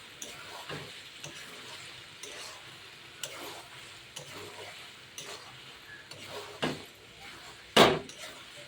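Chicken pieces coated in ground cinnamon, clove and cardamom paste fry without water in a pan, a low steady sizzle broken by scattered scrapes and clinks of stirring, with one sharp knock near the end.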